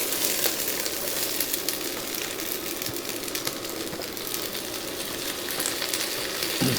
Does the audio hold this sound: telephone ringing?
no